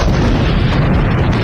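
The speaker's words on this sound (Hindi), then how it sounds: "तभी स्कूल के करीब जोरदार धमाका हुआ" A powerful explosion near a school in Qazvin, Iran, comes through as a loud, sustained, rumbling roar of broadband noise with no clear break, heavy in the low end throughout.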